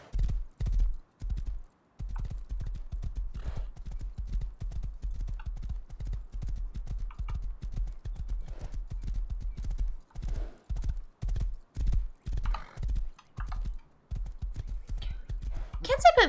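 Horse hooves clip-clop in a steady, near rhythm in the video game Rust, broken by a few short pauses, with a whinny near the end and people talking over it.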